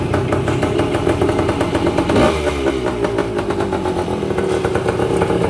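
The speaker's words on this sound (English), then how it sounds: "So this little bike is going to be on the road." A small motorcycle engine runs loud and close after the key is turned on, a steady rapid clattering putter with a brief rise in pitch partway through and no talk over it.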